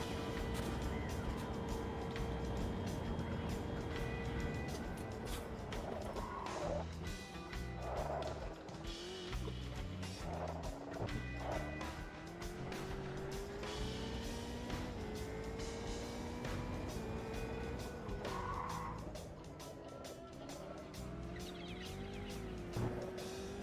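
Race cars in a sim racing video game drone along with engine notes climbing and falling through gear changes, with faint tire noise, moderately quiet and continuous.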